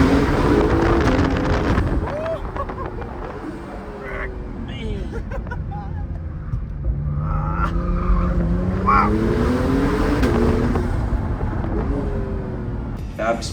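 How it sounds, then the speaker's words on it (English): A 2017 Acura NSX supercar fitted with a Fabspeed Sport Cat exhaust revs up and down in rising and falling sweeps, loud and close, with a voice talking over it. "It has a crazy exhaust on it."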